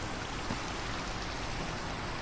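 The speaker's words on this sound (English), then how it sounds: "since it's raining outside" Steady rain falls in Minecraft, a soft, even hiss of drops that stays constant and fairly quiet throughout with nothing else over it.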